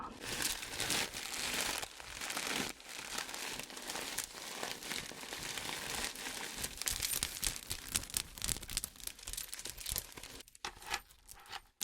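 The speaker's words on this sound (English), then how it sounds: "there's some tissue paper inside, which makes a nice sound" Tissue paper inside a vintage Walborg handbag crinkles and rustles steadily at close range, with dense crackling bursts that continue throughout and briefly pause near the end.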